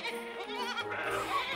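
Children imitating sheep baaing at a preschool gathering, a short, faint cluster of overlapping bleating voices with wavering pitch.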